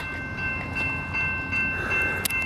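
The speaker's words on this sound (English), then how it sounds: "here's the Lakeshore Limited that we just got off of" The Amtrak Lake Shore Limited sits at South Bend station, giving off a steady rumble of idling railcars and equipment hum with faint tonal whines, heard up close without speech.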